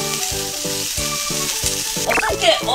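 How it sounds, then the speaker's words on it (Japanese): Onion and bacon sauté in a pan for carbonara, a steady loud sizzle with rhythmic scraping strokes as the food is stirred, busier clatter near the end. "玉ねぎがしなっとして、ベーコンがチリッとするまで炒めていく"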